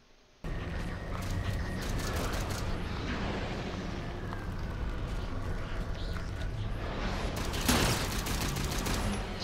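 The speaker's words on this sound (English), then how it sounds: "Somebody's shooting me from above." Gunfire from a fighter craft overhead in the video game Halo 4, dense rapid shots rattling over a steady wash of battle noise, with a louder burst near the end.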